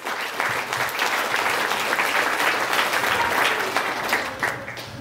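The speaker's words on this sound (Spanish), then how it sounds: "Vamos a recibirlos con un fuerte y caluroso aplauso." Warm, sustained applause from guests at a quinceañera celebration greeting the first communion godparents, a dense crowd of clapping that swells and holds for several seconds before easing slightly.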